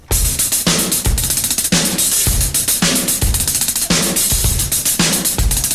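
Drum kit groove with snare rolls woven between kick and hi-hat strokes, loud and continuous, in a metal drumming lesson.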